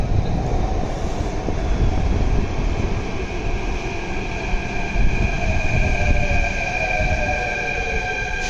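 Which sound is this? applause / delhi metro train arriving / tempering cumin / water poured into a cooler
delhi metro train arriving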